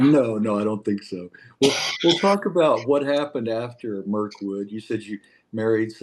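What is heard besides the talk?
No distinct noise like a dog, phone or traffic.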